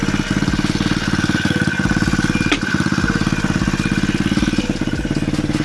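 A gas-engine motorized BMX fitted with a new exhaust runs steadily nearby, giving a loud, continuous, throbbing putter with a brief sharp spike partway through and no talking.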